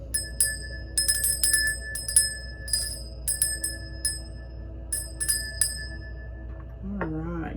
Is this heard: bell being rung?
yes